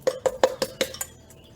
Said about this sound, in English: you mix that around